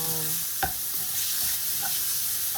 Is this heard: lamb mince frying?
yes